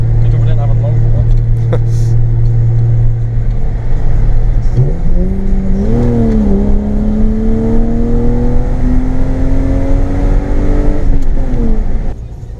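A BMW E36 with a swapped 2.8-litre M52 straight-six and straight-pipe exhaust pulls hard through the gears, its loud raspy tone rising steadily after a shift, heard from inside with people talking over it.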